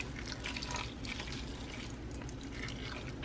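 Water poured into an Instant Pot over sliced apples topped with cinnamon and nutmeg, a continuous soft splashing trickle heard close and steady for a few seconds with no talking.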